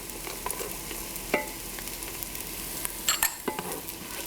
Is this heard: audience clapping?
no